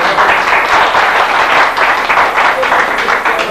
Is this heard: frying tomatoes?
no